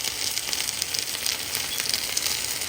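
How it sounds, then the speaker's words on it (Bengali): Chicken pieces frying in a pan for chicken chow mein, giving a steady close crackling sizzle with no voices over it. "চাউমিনের চিকেনটাকে আমি একটু ফ্রাই করে নিচ্ছি।"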